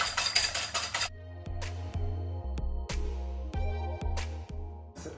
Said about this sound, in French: Une fois qu'on a mis les œufs entiers dans le saladier, on va les battre comme une omelette